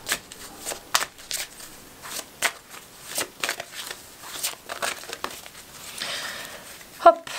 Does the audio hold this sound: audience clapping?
no